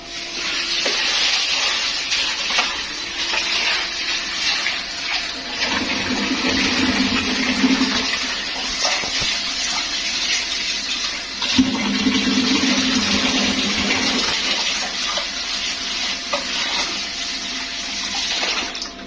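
Water runs from a tap in a home kitchen while lentils are soaked, a loud, steady rushing stream with brief shifts in tone as the flow hits the vessel, continuous for the whole stretch with no talk.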